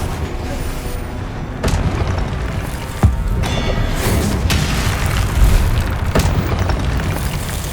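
Repeated Confringo blasting-spell explosions go off in the Hogwarts Legacy video game, several sharp booming bursts over a dense, rumbling battle backdrop, with no talk over them.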